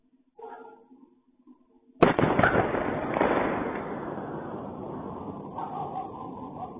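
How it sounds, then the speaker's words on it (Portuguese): A sudden booming blast of an explosion in Rostov erupts after a quiet moment, followed by a long rumbling roll that slowly fades, heard from a distance. "é mais uma vez o barulho de uma explosão lá em Rostov"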